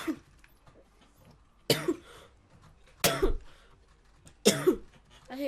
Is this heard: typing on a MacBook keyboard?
no